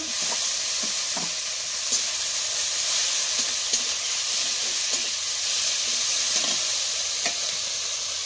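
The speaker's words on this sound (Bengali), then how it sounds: "টমেটো বাটা, দিয়ে মশলাটাকে ভালো করে কষিয়ে নেব" Onion paste, green chilli paste, cumin and chilli paste fry in a smoking-hot kadai outdoors in the rain, giving a continuous, even sizzle with faint scraping stirs throughout and no talking.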